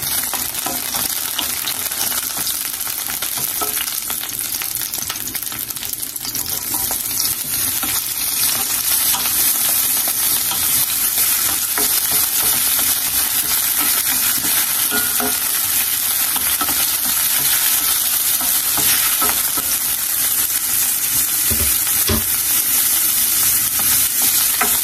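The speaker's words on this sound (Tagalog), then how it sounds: "Yan, gisa-gisa." Food sautéing in a pan for a home-cooked meal, a loud, dense sizzle running steadily throughout, with faint stirring scrapes and occasional knocks underneath.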